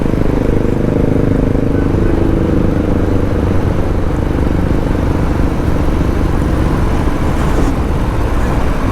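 A Harley-Davidson Fat Boy motorcycle rides along a pothole-strewn highway in Bombay, its engine giving a steady, loud, continuous rumble mixed with road and wind noise throughout.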